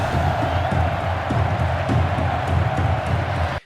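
A large stadium crowd in a Game of Thrones episode cheers and applauds steadily, a dense roar of voices and clapping with occasional whoops, continuous and loud until it cuts off abruptly.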